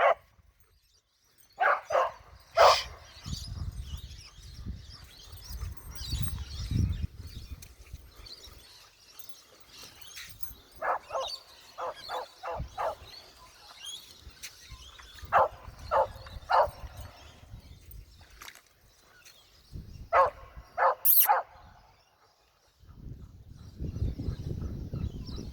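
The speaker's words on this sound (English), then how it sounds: "Hey, I said no barking." An Australian cattle dog barks in quick bursts and yips, pausing between volleys, with a few whimpers mixed in, close and loud against a quiet outdoor background.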